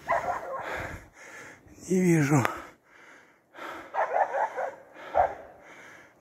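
A Laika hunting dog barks in a forest of aspen and spruce, a series of repeated loud barks, some close and bursting, with someone speaking briefly between them.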